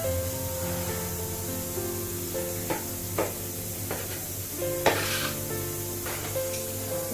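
Potato and shrimp vegetables fry in oil in a wok, giving a continuous close sizzle under a steady low hum, punctuated by several spatula scrapes and knocks as the pieces are stirred.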